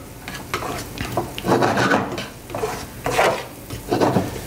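Butter sizzles in a pan while couscous is seasoned with salt, curry and pepper and stirred, with a spoon scraping and clinking against the pan in repeated close, moderately loud bursts.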